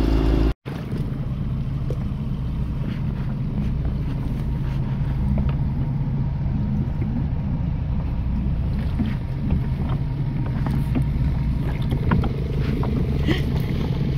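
A small boat's outboard motor drones steadily in Small Point harbor near Portland, a loud, close, constant hum with wind buffeting the microphone throughout.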